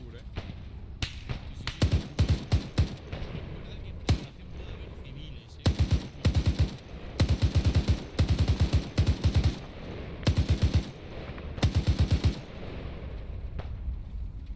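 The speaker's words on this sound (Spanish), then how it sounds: "recarga la metralleta" Repeated machine-gun bursts in the military simulation game Arma 3, several short rapid volleys spaced across the stretch, loud and close, with occasional single shots between them.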